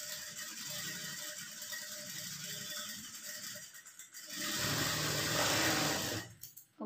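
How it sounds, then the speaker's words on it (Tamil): Sewing machine stitching along the edge of a back-neck canvas on a voile blouse, a steady close mechanical whir that pauses briefly and then runs again louder before stopping. "அந்த கேன்வாஸ் மேலேயே வந்து எஜ்ஜில் வந்து தையல் போடுங்க"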